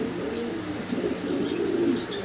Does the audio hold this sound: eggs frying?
no